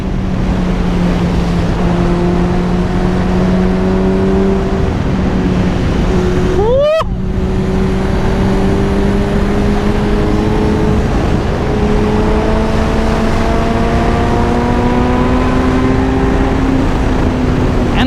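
A motorcycle accelerates out of a corner on dirty stock tires, its engine note climbing steadily through the gears under heavy wind rush, with someone talking over it.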